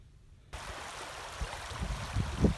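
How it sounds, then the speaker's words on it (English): Rapids on the River Stinchar rush steadily over gravel banks as ice begins forming, a continuous broadband water wash rising after a half-second of near quiet, with a few louder surges toward the end. "The rapids are still moving"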